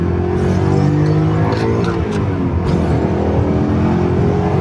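A Dinan-tuned BMW E39 M5 with 226,000 miles pulls hard under acceleration, its engine a loud, continuous, rising drone heard from inside the car.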